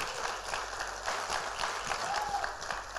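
Church congregation applauding and clapping hands in a continuous, fairly loud wash of claps that holds steady throughout, with no pauses.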